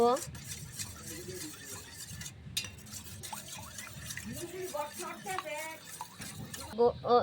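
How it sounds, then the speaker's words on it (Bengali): Eggs are whisked in a bowl with a utensil, giving quick rhythmic clinking and stirring strokes against the bowl while a person talks over much of it. "ডিমগুলোকে ফেটিয়ে নিব।"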